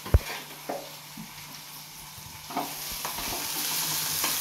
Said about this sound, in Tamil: தாளிக்க கருவேப்பிலை, வெங்காயம் சேர்த்துப்போம்.